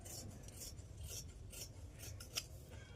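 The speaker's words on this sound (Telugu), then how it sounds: "నేను ఇప్పుడు ఇది కట్ చేసేసుకుంటున్నా" Scissors cutting blouse fabric in close, quiet rasping strokes, several short snips in an uneven rhythm over a soft steady background hum.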